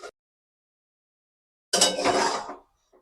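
Wheat flour sheera served from a cooking pot with a spoon, a brief clatter of utensil on metal followed by a longer scraping, clinking burst, close and alone.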